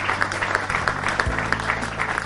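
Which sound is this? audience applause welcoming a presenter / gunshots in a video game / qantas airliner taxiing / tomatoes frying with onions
audience applause welcoming a presenter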